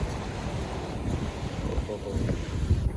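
Sea waves wash onto the beach at Shrivardhan, a low continuous surf rumble blown over by gusty wind buffeting the microphone.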